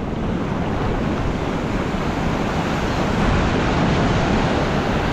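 Surf breaking on a Fraser Island beach during midday tailor fishing, a steady loud roar of waves with wind buffeting the microphone throughout, no voices.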